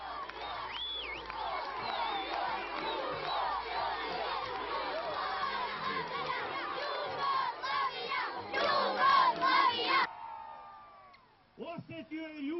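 A large crowd at a 1999 Serbian rally roars and shouts for several seconds in loud, dense waves. A sharper burst of cries follows before the noise drops away, and a voice rises near the end.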